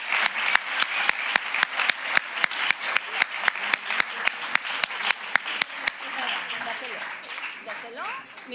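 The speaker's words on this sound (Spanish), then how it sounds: "Por favor, un aplauso fortísimo." Audience at a school open day applauding, crowd clapping under a loud, sharp rhythmic clap repeating roughly every quarter second, the beat stopping near six seconds while the general applause fades with faint voices.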